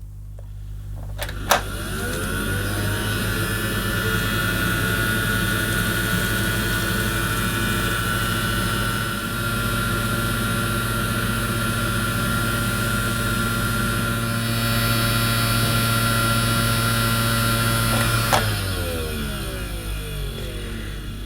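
An Electrolux Silent Performer toy vacuum cleaner by Klein runs on a hard floor, switching on with a click into a steady buzzing motor whine and then clicking off near the end.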